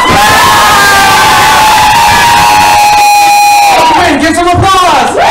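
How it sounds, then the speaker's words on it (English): A loud game show audience cheers, applauds and yells continuously, children's voices shrieking and whooping in a dense, sustained roar. "If you think Sybil should win, give some applause!"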